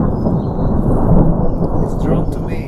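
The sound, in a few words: thunder rumbling during a thunderstorm over a permaculture garden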